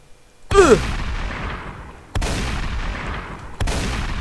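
Gunfire in a Roblox game: three loud, close shots with sharp cracks and decaying low rumble, the first with a brief rising whistle-like ring, spaced unevenly over a few seconds, no talking.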